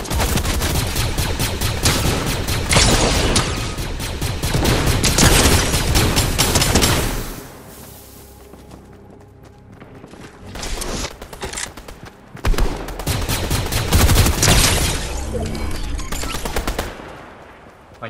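Rapid bursts of automatic gunfire in Fortnite rattle loudly, pause briefly, then resume in heavy volleys, with game-like booms in between.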